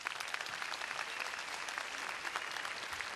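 Theater audience at a comedy show in Delfinario breaks into continuous loud applause, a thick, steady wash of many hands clapping without pause.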